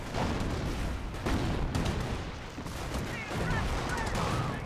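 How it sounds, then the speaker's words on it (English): A frag grenade going off during a Company of Heroes battle, a dull blast folded into continuous dense gunfire and artillery rumble, with the whole mix staying loud and busy throughout. "Good frag grenade there."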